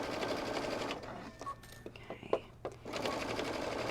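A sewing machine runs steadily while stitching a kimono-style robe, pausing briefly midway with a few soft handling knocks before the continuous whir resumes up close.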